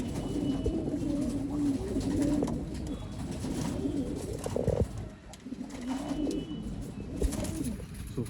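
Domestic old-line pigeons coo close by, with repeated soft throaty rolling calls in several bouts, and some faint background bustle.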